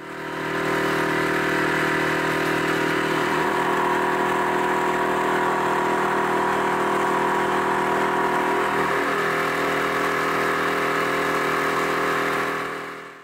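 Loud, steady drone of a boat engine with a constant tonal hum and broadband roar, running continuously while heading across Loch Long in a light chop.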